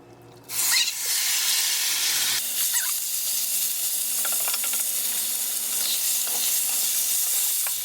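Chicken pieces browning in a stainless steel pan, a loud, steady hissing sizzle that bursts up abruptly and then holds, with a few faint scrapes and clinks underneath.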